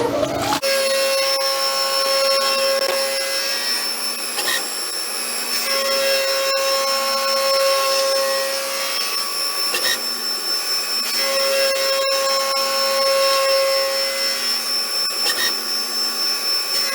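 Power tool grinding a radius on the second side of a metal swing bolt handle, a steady close whine with faint tonal hum running without pause.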